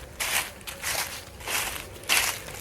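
Footsteps crunch outdoors on a deer hunting property in November, with three or four heavy, evenly spaced steps close by that crackle over dry ground, and no one speaking.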